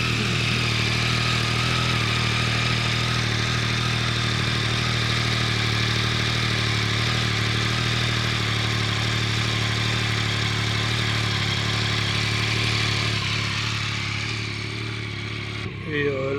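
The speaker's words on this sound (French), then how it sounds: "Et là je fais tourner un petit peu le moteur pour qu'il chauffe" A Yamaha MT-09 SP motorcycle engine idles steadily to warm up after an oil and filter change. The rumble is close and even, with no change for about fifteen seconds before it cuts off abruptly near the end.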